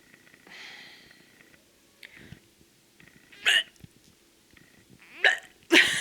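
A person imitates a cat retching and vomiting, with three short, harsh, throaty bursts, the last two close together, set apart by quiet breathy gaps and soft mouth noises.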